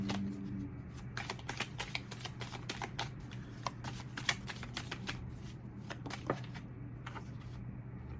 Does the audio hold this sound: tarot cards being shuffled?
yes